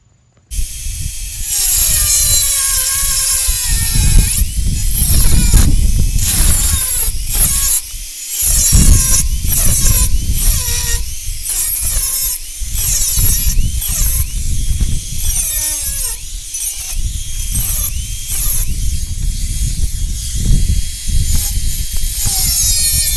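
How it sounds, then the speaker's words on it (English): A power tool cuts the crinkled, damaged section out of a 1968 Chevy C10 truck frame, a loud harsh grinding roar with whining, shifting pitch and brief pauses, close and continuous for about twenty seconds. "So we're going to cut all this crinkled part out"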